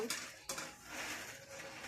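A one-year-old baby plays with a metal wok, producing two quick metallic clanks close by followed by softer scraping and rattling, with no speech.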